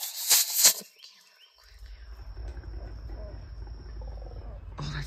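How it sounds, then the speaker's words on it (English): Birds on an island give loud, harsh, eerie calls in a cluster of close bursts early on, followed by a low, rumbling wash of sound with faint calls beneath it. "Those are the birds."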